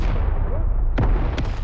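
A grenade blast in the Rising Storm 2 war game, loud and sharp against steady battle noise, with a second crack or shot following close behind.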